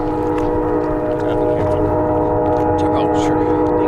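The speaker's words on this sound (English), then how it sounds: "I'm gonna see if I can hop on this train" A train passes close by with a loud, sustained mechanical rumble and droning tonal hum that holds steady throughout, with a faint voice in the background.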